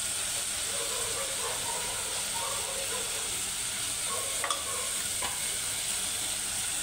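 Spiced masala rice, seasoned with salt, turmeric, red Kolhapuri masala and biryani masala, is stirred in a pan, giving a steady close sizzle and hiss with soft scraping strokes and a few sharper clicks near the end.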